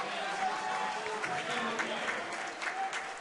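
Applause from teammates and the crowd at a college basketball game in Johnston Hall, Moravian College versus Delaware Valley College, a steady wash of clapping filling the gym with faint voices mixed in.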